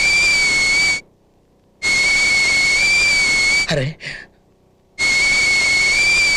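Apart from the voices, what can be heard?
pressure cooker whistle on the stove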